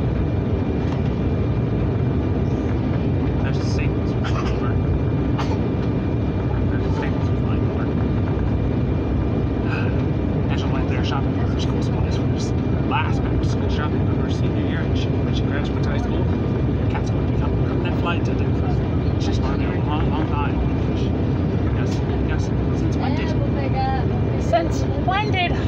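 Airbus A320neo airliner on approach to land in a flight-simulation game, a steady low jet engine rumble and airflow roar running throughout with brief mechanical clicks and chimes, while a voice talks over it.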